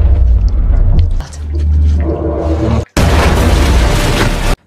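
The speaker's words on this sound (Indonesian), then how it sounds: "tiba-tiba terdengar tembakan yang menghancurkan atap pesawat" A blast destroys an aircraft roof in a film scene, heard as loud, deep booming rumbles followed by a sudden, harsh, broadband burst that cuts off abruptly.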